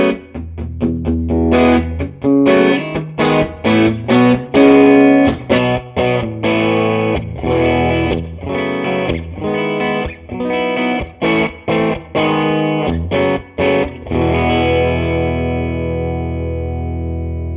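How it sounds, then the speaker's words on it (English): Chase Bliss Audio Dark World dual channel reverb pedal set to a mild, subtle spring reverb on a played instrument, with steady chords and picked notes and a short ringing tail fading out after the final strum. "this will be a more mild kind of reverb tone, just to be a little bit more subtle"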